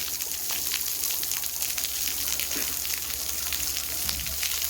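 Water sprays steadily from a shower nozzle on a RainDeck splash pad, a loud, continuous hissing rush with no break across the whole stretch.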